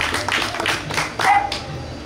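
An audience at a swearing-in ceremony for new members claps briefly, a short burst of scattered applause with a whistle-like squeal partway through.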